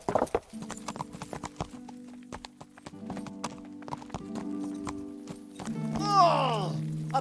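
Horse hooves clip-clop in Kingdom Come, a medieval role-playing game, a steady rhythm of close hoofbeats running through the whole stretch over droning background music, with a horse whinnying near the end.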